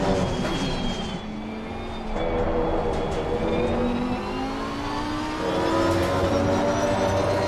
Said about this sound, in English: The Aston Martin was quite funny. It does sound a bit wheezy.